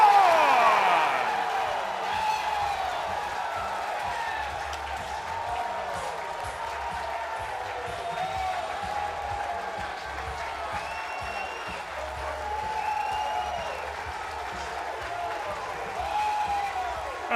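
A large blue-clad college baseball crowd roars and cheers after a home run, a sustained swell of voices and applause filling the ballpark, with a commentator talking over it.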